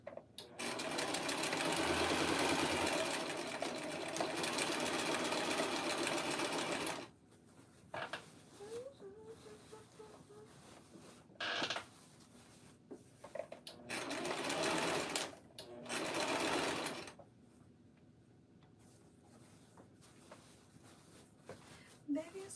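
A sewing machine stitching on a flimsy table, with a long steady whirring run, then shorter bursts separated by quiet handling clicks, close and prominent.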